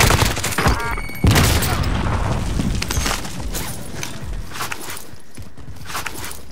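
A grenade explodes in Call of Duty: Modern Warfare, a sudden loud blast with crackling debris, preceded by clattering and followed by a rumbling tail under game sounds.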